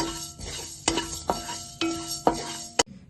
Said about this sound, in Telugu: మనం స్టవ్ వెలిగించుకొని కడాయి పెట్టుకుని ఇప్పుడు మనము ఈ మసాలాని వేపుకుందాం. లైట్గా వేపుకోవాలి.